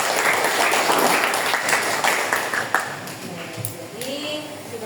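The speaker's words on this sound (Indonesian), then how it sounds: "Oke, tepuk tangan untuk Bella." Classroom audience applauding a student presenter, a dense burst of clapping that is loud at first and then thins out, with some voices over it.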